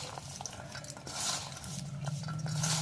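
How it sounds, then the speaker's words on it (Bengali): Fish roe being mixed by hand with salt, turmeric, chili and cumin, giving soft, faint, close squelching and smearing sounds in an irregular rhythm, alone without talk. "এখন এইগুলোকে ভালো করে হাত দিয়ে আমি মাখিয়ে নিচ্ছি"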